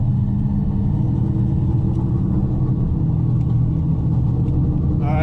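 Old 2.3 Ford Ranger daily driver used as a bracket race truck at Bunker Hill Drag Strip, its engine rumbling steadily and loudly throughout, with a track announcer talking over it.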